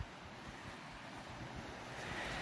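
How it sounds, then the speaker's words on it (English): Water rushes down a small cascade in Harrison Crawford State Forest, a faint, steady broadband wash with no voices. "So we found a cascade."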